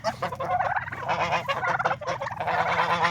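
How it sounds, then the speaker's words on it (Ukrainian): Domestic geese, including grey ones, honk and cackle continuously at close range in a noisy, overlapping chorus of nasal calls. "Оце два гусака, а це, напевно, дві гусочки сіренька."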